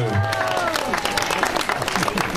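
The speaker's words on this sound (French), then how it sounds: "Il nous rejoint sur vos applaudissements, mesdames, mesdemoiselles, messieurs" Applause from an audience at a cycling world championship award ceremony in La Rochelle, with voices and crowd noise mixed in. The clapping is dense and steady throughout, and a tonal hum runs underneath.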